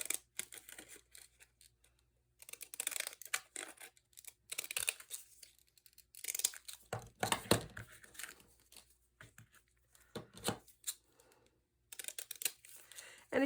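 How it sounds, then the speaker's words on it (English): Small stamp scissors cutting paper postage stamps, quiet crisp snips and paper rustles in short irregular bursts separated by silence. "I'm going to cut a couple of these out with my stamp scissors"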